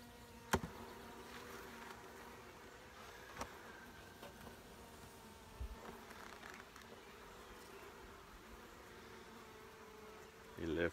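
Honeybees hum steadily around an opened nucleus colony hive during a check for a newly laying queen. The buzz is a soft, continuous drone, close and unbroken, with a few faint knocks from handling the frames.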